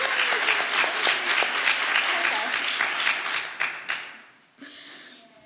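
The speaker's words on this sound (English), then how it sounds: "So can we just clap for them, thank them for all they do." An audience applauds together in a continuous, fairly loud wash of clapping at a women's church gathering, thinning and tapering off in the final seconds.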